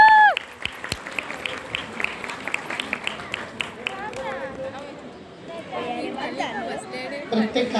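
Applause at a family engagement party, a burst of clapping from the gathered guests mixed with chatter and voices, fairly close and lively, tapering off into talk and laughter.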